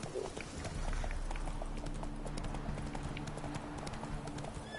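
Roach the horse in The Witcher 3 trots along with steady, evenly spaced clip-clopping hooves, fairly close and continuous over a low rumbling game ambience.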